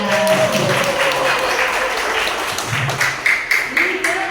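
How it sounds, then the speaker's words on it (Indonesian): Vocational high school students at a basic digital painting workshop clap together, a moderate burst of applause that gradually thins out, with a few sharper individual claps and a voice speaking near the end. "Jadi tepuk tangan dulu dong teman-teman."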